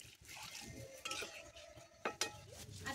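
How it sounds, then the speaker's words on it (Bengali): In a home kitchen, water goes into a hot pan of lentils being cooked for lunch and is stirred. A utensil scrapes and clinks against the pan several times over a faint sizzle, quiet and close, with no talking. "চলো এবার জল দিই।"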